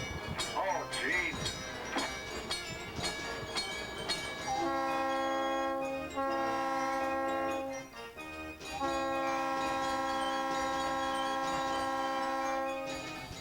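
Circus parade train running on the tracks, its horn sounding in long sustained blasts with a brief break, over rolling rail rumble and some background noise.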